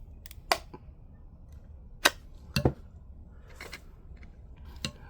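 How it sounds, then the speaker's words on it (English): A screwdriver twisting open the plastic seal of a PSA graded card slab gives a handful of sharp, isolated clicks and cracks, spaced irregularly against near silence. "As I twist the screwdriver, you can see the seal opening up."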